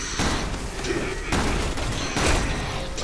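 Rapid gunfire bursts from the video game Resident Evil 6, loud and dense, with several sharp volleys across a few seconds of continuous combat noise.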